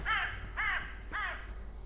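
A crow in the game The Cursed Forest caws three times in an even rhythm, each call harsh and clear at moderate distance over a low background hum.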